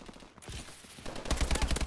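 Gunfire from the video game Call of Duty Advanced Warfare, a burst of rapid shots that starts about halfway through, loud and close, with scattered impacts before it.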